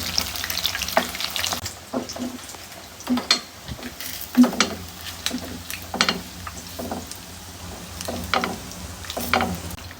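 Potatoes frying in oil for chicken kacchi, a steady sizzle broken by repeated sharp scrapes and clinks of a spatula stirring in the pan, close and fairly loud with no talking.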